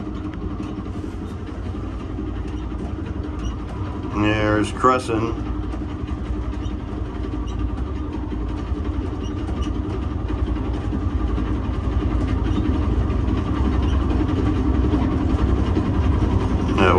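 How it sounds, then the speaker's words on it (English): Amtrak Pennsylvanian passenger train climbing the west slope of the Allegheny Mountains on Norfolk Southern track near Cresson, with a steady low engine and rail rumble throughout and someone talking briefly over it. "We're going up the west slope of the Allegheny Mountains on the Norfolk Southern Railroad."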